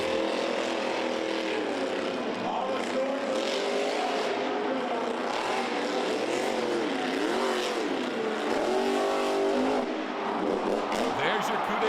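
Monster truck engine roaring loud and continuous at a Monster Jam stadium event, revving with shifting pitch over crowd noise and an announcer talking throughout.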